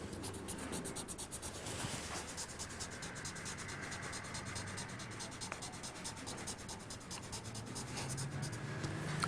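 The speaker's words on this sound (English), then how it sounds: "Take your secret fluid pen and write over." A secret fluid pen writing over paper, a continuous soft scratchy rubbing that runs steadily throughout, close and quiet, with no talking.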